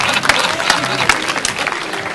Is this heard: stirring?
no